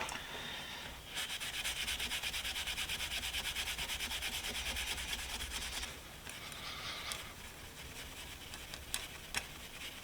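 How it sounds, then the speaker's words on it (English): Steady back-and-forth scrubbing of a Stanley Sweetheart combination square coated in oven cleaner, a continuous close rubbing rasp that pauses briefly, then resumes more lightly with a few sharp knocks near the end. "Back to the oven cleaner. And a whole lot of scrubbing."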